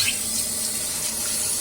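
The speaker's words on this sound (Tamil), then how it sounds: "நம்ம அவளை அலசிக்கலாம்." Running tap water pours steadily and close over flattened rice (aval) being rinsed, a continuous splashing rush with no pauses.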